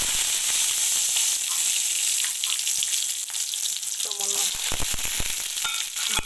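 Dried red chilies sizzling loudly in hot oil, a dense, close frying hiss that continues throughout, with a few stirring clicks toward the end.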